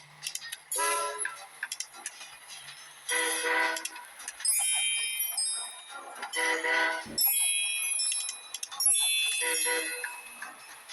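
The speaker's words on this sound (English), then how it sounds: "That's an express train, so that's a good choice to actually send it that way." Express train in the Train Conductor World video game on a German territory level, heard as synthetic rail sounds with bright tones and ticking clatter in intermittent bursts.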